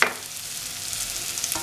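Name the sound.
stirring raw plantain in a frying pan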